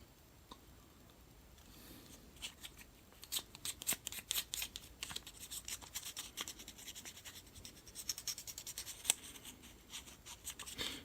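800-grit sandpaper rubbed over a Teela Origins action figure knee part gives quick, dry scratching strokes in a steady, close rhythm that grows busier partway through.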